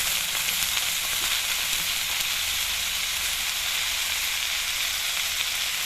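Onion, garlic and mustard greens sizzle loudly in a hot pan while being stirred and flipped, giving a steady, dense frying hiss with faint scraping ticks throughout and no talking.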